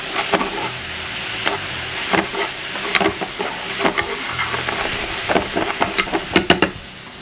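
King prawns and a spoonful of pesto sizzle steadily in a hot frying pan, a continuous close hiss broken by frequent scraping clicks as they are kept moving, with no talking.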